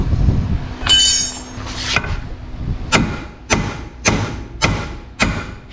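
A hammer strikes a control arm on a 1987–1996 Dodge Dakota truck during a coil-over shock install, giving a ringing metallic clang and then five sharp, evenly spaced loud hits close by.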